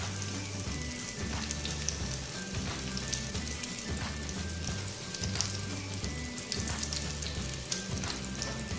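Sweet potato, boiled beforehand, frying in melted butter in a pan: a steady, dense sizzle and crackle that stays close and even throughout, with soft low kitchen hum underneath and no voices.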